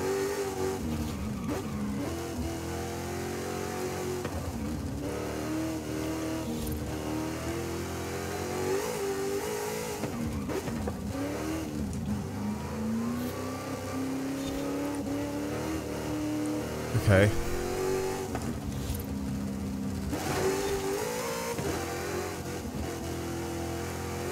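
A car engine in Forza Horizon 5 revs at full throttle, its pitch sweeping up and down through gear changes, loud and continuous for the whole stretch with a brief sharp spike near the middle.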